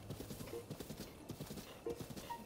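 Rhythmic hoofbeats of a galloping horse in The Legend of Zelda: Breath of the Wild, a steady, moderately loud clip-clop with occasional brief tonal game sounds and no talking.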